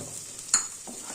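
Pumpkin curry with tomato and green chili frying over a low flame, a steady soft hiss with a brief louder stir or clatter midway, close and without speech.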